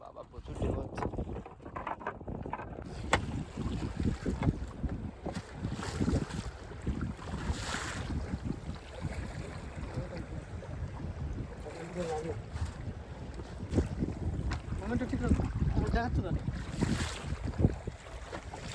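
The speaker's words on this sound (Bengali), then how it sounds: "প্রচুর হাওয়া ও ঢেউ হচ্ছে" Strong wind buffets the microphone over rushing, slapping river waves, a continuous rough roar with a few faint voices underneath.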